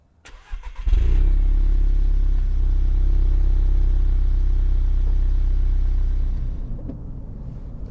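A 2013 Volkswagen Golf GTI's engine starts and then pulls loud and steady as the car accelerates, with a continuous close rumble that eases off toward the end.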